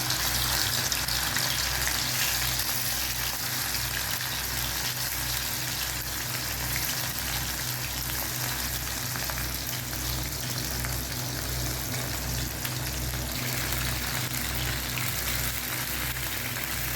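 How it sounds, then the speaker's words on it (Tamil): Prawns fry in hot oil on a flat tawa, giving a steady, close, even sizzle and crackle that runs throughout with no talking. "நம்ம இப்போ இதை போட்டுட்டு 3 நிமிஷம் தான் 2 பக்கமும் திருப்பி போட்டு நம்ம பொரிச்சு எடுத்துடலாம்"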